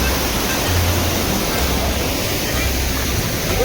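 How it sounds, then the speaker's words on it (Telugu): Neer waterfall near Rishikesh roars as a dense, steady rush of falling water, loud and close, with no talk. "నీరు వాటర్ ఫాల్స్"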